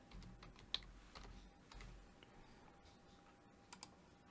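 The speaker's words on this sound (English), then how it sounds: "I just typed in background image." Someone types on a computer keyboard, with soft, quiet key clicks in short bursts and a few louder taps at the end, with no talk.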